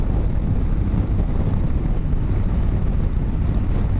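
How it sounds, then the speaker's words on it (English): A Kawasaki GTR 1400 motorcycle accelerating in 4th gear, a steady dense engine roar mixed with heavy wind rush, continuous and loud throughout. "Give it the throttle, and here again. Picks up speed even in 4th gear like that."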